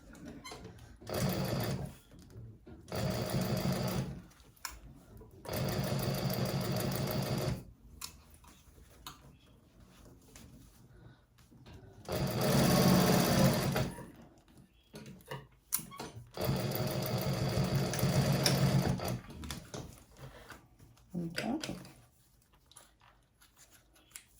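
Sewing machine stitching a handbag lining, running in several bursts of rapid mechanical ticking separated by short pauses, close and moderately quiet.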